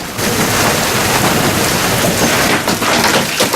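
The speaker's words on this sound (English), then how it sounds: "Hail's just started hitting the boat." Dense, loud pounding of hail drumming on a boat, a constant roaring clatter with no pauses.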